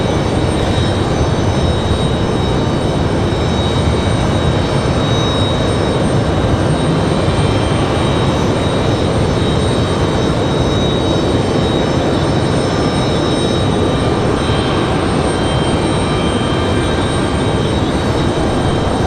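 A United Boeing 737 MAX 8 airliner takes off at Raleigh Durham International, a steady, loud broadband jet roar that holds evenly throughout without any talking.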